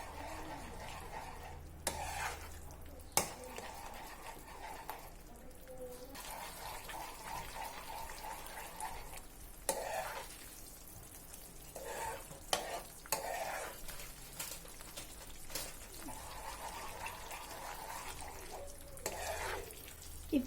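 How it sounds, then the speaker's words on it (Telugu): Bombay Karachi halwa is stirred continuously over a low flame as ghee is added, producing repeated scraping strokes and soft sizzling with occasional sharper knocks of the spoon across a long stretch. "లో ఫ్లేమ్లో చిన్నగా నెయ్యి వేసుకుంటూ కలుపుకుంటూ ఉండాలి"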